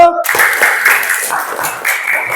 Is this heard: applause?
yes